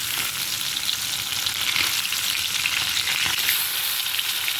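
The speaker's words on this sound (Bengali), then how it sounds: "এক পিট মাছ ভাজা হয়ে গেছে এবার মাছগুলো আমি আস্তে করে উল্টে দেবো" Pieces of bhola fish fry in a karahi of hot oil, giving a dense, steady crackling sizzle with faint clinks as they are gently flipped.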